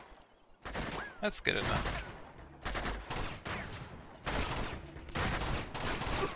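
Gunfire from a weapon in Uncharted 2: Among Thieves, a few sharp shots and bursts mixed among the game's background noise, with someone talking over and between them.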